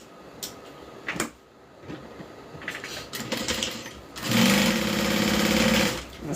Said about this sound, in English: So just like the interior, the top of the gusset has a band as well. So we're going to go ahead and sew that on.